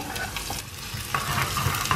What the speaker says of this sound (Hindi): फिर से मस्टर्ड ऑयल गरम किया है इसमें चौक डालूंगी चॉप्ड जिंजर गार्लिक और ग्रीन चिली